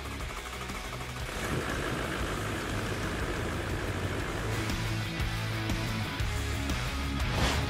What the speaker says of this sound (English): Now that the engine is back together, it is primed and started to see if the engine codes have been cleared.